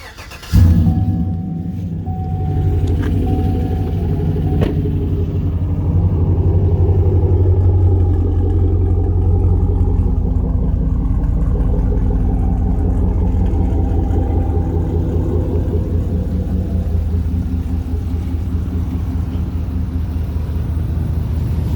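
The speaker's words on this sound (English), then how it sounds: "I'm going to start her up. That way you can hear it run." A 2016 Chevy Silverado pickup engine with aftermarket exhaust cranks and catches with a sharp onset, then settles into a steady, loud, low rumbling idle that runs on without a break.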